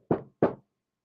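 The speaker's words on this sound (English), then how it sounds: "you never know who's going to be knocking at your door" Two quick, solid knocks on a door, close and fairly quiet, spaced a third of a second apart, then silence.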